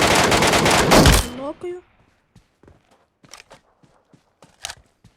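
A dense burst of rapid video game gunfire for about a second, followed by a few ringing tones and scattered sharp clicks and taps.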